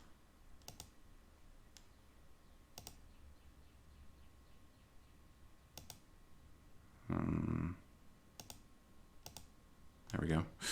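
A computer mouse gives sharp, isolated clicks spaced a second or two apart, quiet and close, with a few brief bursts of talking between them.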